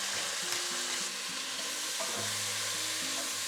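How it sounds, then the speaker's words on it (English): Beef seasoned with garlic salt and black pepper frying in bacon grease in a pan, a dense continuous sizzle under a faint steady hum, close and even throughout, with no voices. "I'm just gonna leave a little bit there at the bottom just to fry up our beef"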